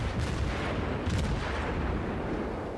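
Naval guns of the cruiser Omaha boom repeatedly in a naval battle game, heavy overlapping blasts with rumbling tails filling the short stretch.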